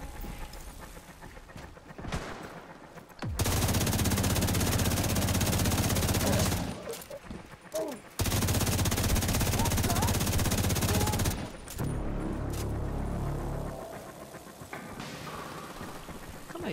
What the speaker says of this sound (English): I hear the minigun.